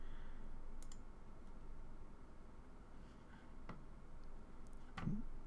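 A computer mouse clicks a few times, sharp and faint, spread out over a soft, steady background hiss.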